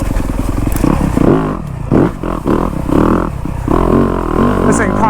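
A Yamaha YZ250F dirt bike rides a woods trail, its engine loud and close, revving up and dropping off in uneven bursts over logs, with a rider talking over the engine.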